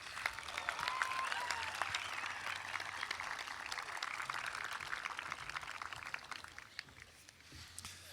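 A commencement crowd at Tabor College applauds graduates, a broad, even roll of clapping filling the hall and easing slightly toward the end.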